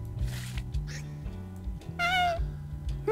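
Cat meowing in the Molecats video game, one bright rising meow around the middle over steady background game music, with a softer mew earlier and another starting at the end.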